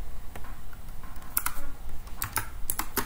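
Computer keyboard keys being pressed for shortcuts while working in the River Wayland compositor on Linux: several sharp, close taps in uneven bursts, clear and fairly loud, with no talk.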